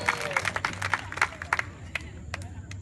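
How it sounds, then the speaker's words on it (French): A church congregation claps along in a steady rhythm, with sharp, evenly spaced claps over a low crowd murmur that trail off near the end. "Applaudissons le Seigneur."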